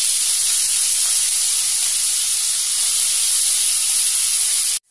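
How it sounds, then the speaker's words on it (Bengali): Potatoes frying in a couple of spoonfuls of oil in a wok give off a steady, loud sizzling hiss that continues without a break and then stops abruptly. "এবার এই তেলটার মধ্যে আমি দিয়ে দেব কুড়িয়ে রাখা আলুগুলো।"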